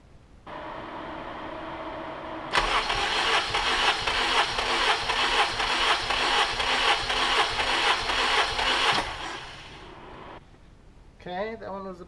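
A K24-swapped Acura Integra engine cranking on the starter during a compression test, a steady rhythmic churning drone lasting several seconds at close range before stopping, followed by faint talk.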